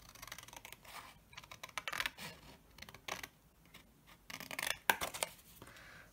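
Scissors snip through paper or card for a test tube shadow box, a run of irregular crisp cuts and rustles, close and moderately quiet, with no talking.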